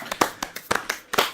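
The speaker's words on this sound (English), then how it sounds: "Give them a round of applause" A few people on a podcast clap briefly for two members who cut their hair: a short, sparse burst of close hand claps with uneven rhythm, lasting just over a second.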